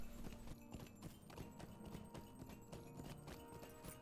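Horse hooves clip-clopping at a steady riding pace along a road in the video game Lord of the Rings Online, a continuous rhythmic patter layered with background game music and ambience.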